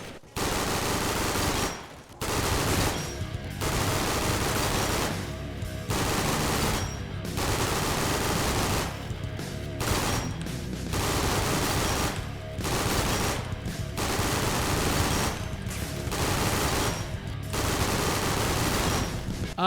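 Rapid automatic gunfire from a custom fan-designed gun in a shooting video game, loud sustained bursts broken by brief pauses for reloading, filling the whole stretch.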